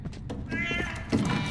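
In The Last of Us: Left Behind, a cat lets out a short, strained screech that wavers and rises, close and moderately loud over low game ambience, with a little talk around it.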